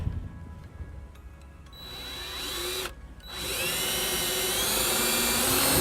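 Power drill driving a self-tapping screw into a body panel of a 2013 Subaru Forester during trailer wiring installation, a rising whir that briefly cuts out, then resumes as a steady nearby whine.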